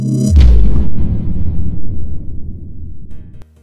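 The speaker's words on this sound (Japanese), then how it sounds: "あれめちゃくちゃ大爆発してましたね。" A gourd bursts under air pressure in a science experiment, one loud, sudden boom up close that rumbles and decays over about three seconds before cutting off.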